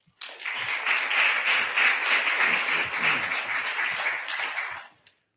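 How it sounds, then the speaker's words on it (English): Applause greets Deputy Secretary Bates as he walks to the podium at a 2022 inauguration ceremony: a steady, dense round of clapping from a sizeable audience that holds for about five seconds, then stops abruptly. "Please join me, warm round of applause to our Deputy Secretary Bates"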